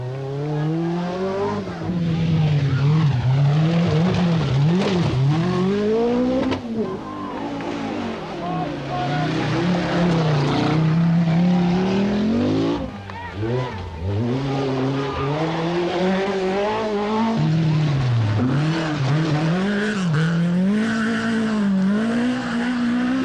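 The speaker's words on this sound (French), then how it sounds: "Virage serré, la 205 s'y faufile et s'en extrait rapidement." A Peugeot 205 rally car from the 1984 Acropolis Rally threads through a tight bend and pulls out fast, its engine loud and close with rising and falling revs throughout, a French voice talking over it.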